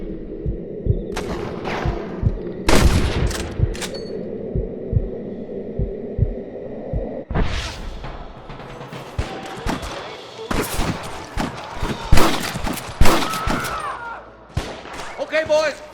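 Gunfire in the Red Dead Redemption video game: sharp shots crack in scattered bursts over a low droning hum, with a dense flurry of rapid shots in the second half and occasional voices among them.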